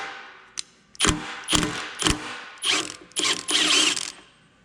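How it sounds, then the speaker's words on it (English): An impact gun hammering at a nut on a 1969 BSA Starfire motorcycle, firing in several loud, close ratcheting bursts of rapid mechanical rattling, each a second or less, separated by short pauses. "I got my impact gun here, and hopefully this will come right off."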